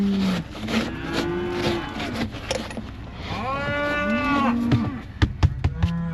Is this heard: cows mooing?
yes